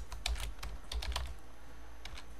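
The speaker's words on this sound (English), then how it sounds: "I'm going to type learn, and then I'm going to type another one that's photo" Computer keyboard typing for a Photoshop logo project: a quick uneven run of clicky keystrokes close by, bunched into two flurries with a final few taps after a pause, with no talk.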